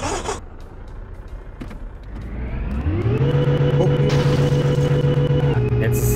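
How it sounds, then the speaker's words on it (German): An old junk car in Game Store Simulator, its engine rising from idle into a steady, loud drone as it pulls away and drives on, with faint clicks and beeps over the top. "Und nun nehmen wir unsere alte Schrottkarre und fahren zum Autohändler."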